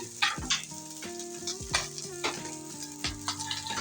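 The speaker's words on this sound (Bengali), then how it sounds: "সবগুলো মাছই তো আমি উল্টেই দিয়েছি, এখন এই সাইডটাই ভাজা হোক।" Poa fish frying in a pan sizzle steadily in oil, punctuated by clinks and scrapes of a spatula turning and stirring, fairly faint and close.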